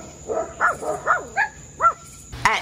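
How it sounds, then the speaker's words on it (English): A Great Pyrenees barks outdoors in a yard after dark, giving about seven short, moderately close woofs in an uneven rhythm with brief gaps between them. "he goes around and just starts what seems to me like aimlessly barking"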